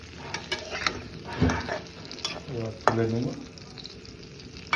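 Ingredients lightly frying in oil in a pan for a goat meat curry, giving a steady close sizzle with bursts of stirring and scraping while a voice speaks briefly over it.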